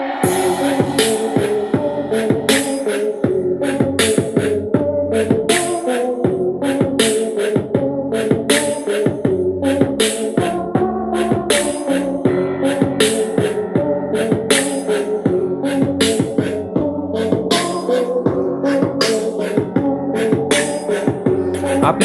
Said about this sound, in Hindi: तो चलिए हम एक गाना बजाते हैं जो कि नो कॉपीराइट गाना है, उसे हम प्ले करते हैं।